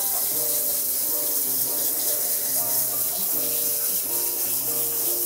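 Running tap water splashes steadily while a Jack Russell Terrier with sore, arthritic joints is washed, a continuous close hiss and patter without pause.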